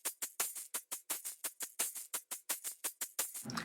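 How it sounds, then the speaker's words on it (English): Distorted, saturated tambourine and shaker play a pop-rock percussion groove: a steady run of about sixteen bright, gritty hits at an even quick pulse, close and loud, with nothing else heard. "And I also have the shaker that's panned to the left, so this way it doesn't fight with the tambourine groove."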